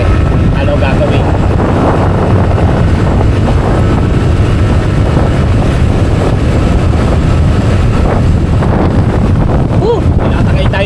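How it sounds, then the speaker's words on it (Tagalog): Strong, roaring wind buffets the microphone continuously on a road trip to Calaca, a heavy low rumble throughout with a voice faintly audible underneath. "Tinatangay tayo ng hangin."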